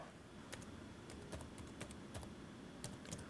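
Sparse computer keyboard typing during an SQL database lesson, with a handful of distinct clicks spaced unevenly at low level against a steady background hum.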